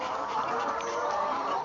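Chickens cluck in a poultry farm shed, a dense, continuous murmur of many birds at moderate distance with no clear voices over it.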